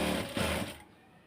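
A sewing machine stitches a kameez in a brief, steady mechanical whir that runs close and clear for under a second, then cuts off into quiet.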